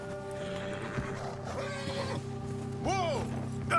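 A horse neighs in Red Dead Redemption 2, a loud whinny with a falling wavering pitch late in the stretch. It rides over steady game ambience and a low hum.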